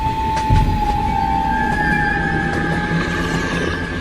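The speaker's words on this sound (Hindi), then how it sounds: "आगे तो ट्रेन का रास्ता बंद है, ट्रेन को जल्दी रोको" Cartoon train rolling steadily along the tracks, a continuous low rumble with faint clatter and sustained high tonal squeal lines, close and loud with no speech.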